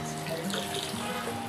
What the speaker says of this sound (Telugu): ఇలా వాటర్ లో తడిపేస్తే నార్మల్ అయిపోతుందండి శారీ. దీనికి ఉన్న స్టార్చ్ మొత్తం పోతుంది.